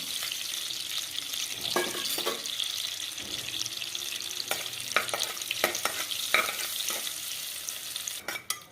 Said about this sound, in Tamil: இந்த ஸ்பைசஸ்லாம் நல்லா பொரிச்சிடுச்சு.